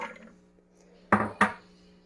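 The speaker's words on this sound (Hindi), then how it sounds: "अब इसमें मैं ये चने डालूंगी" Chickpeas drop into a bowl while falafel is being made, giving two sharp clattering impacts in quick succession, close and fairly loud, against a quiet kitchen.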